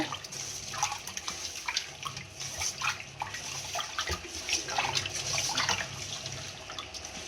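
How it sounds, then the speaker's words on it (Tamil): Fish washed by hand in water with rock salt, close splashing and sloshing in uneven bursts, moderately loud, with no talk. "கொஞ்சம் கல்லுப்பு போட்டு நல்லா வாஷ் பண்ணிக்கலாம் மீனை டூ டைம்ஸ் வாஷ் பண்ணிக்கோங்க"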